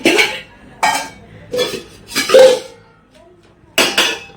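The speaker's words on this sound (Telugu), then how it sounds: "ఎందులో చేయాలో తెలియక గిన్నెలు ఎత్తుక్కుంటున్నా మా చెల్లి." A girl picks up and handles steel kitchen vessels, bowls and pots, while choosing one for pani puri water: several separate clanks and knocks, close and fairly loud, spaced with short silences between them.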